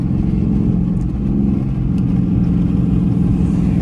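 An Infiniti G35 project car's engine runs with a loud, close, continuous low drone, holding steady with only slight swells and no talking.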